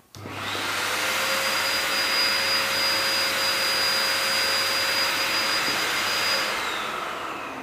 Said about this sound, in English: generates hot airflow between 95 to 100 degrees Fahrenheit